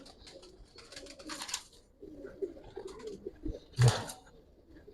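Giribaz pigeons of the Palla line coo softly in a loft, a few low murmuring calls close by, with one louder burst of wing or body movement near the end.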